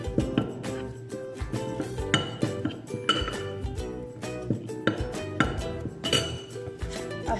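Fries tossed with salt and seasoning in a bowl, producing repeated bright clinks and knocks of utensil against the dish in an uneven rhythm, close and fairly loud.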